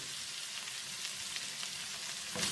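Capsicum strips fry softly in a pan as they are stirred together with the other ingredients, giving a faint, even hiss with light scraping.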